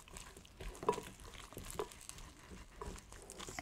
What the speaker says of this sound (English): You can hear the sizzling sound.